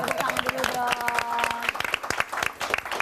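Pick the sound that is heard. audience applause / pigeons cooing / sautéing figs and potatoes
audience applause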